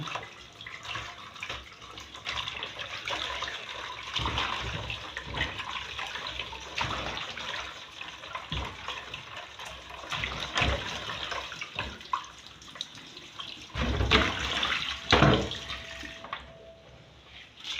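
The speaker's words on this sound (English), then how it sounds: "Wash it very well in a running water." Bitterleaf being washed by hand under a running kitchen tap, a steady close stream of water splashing over the leaves with irregular swishes and louder surges near the end.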